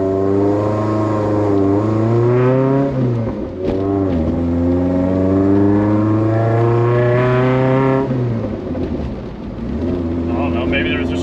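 A Fiat X1/9 engine runs close by at a stop sign, its low rumbling tone dipping and rising in pitch as the revs drop and return to idle.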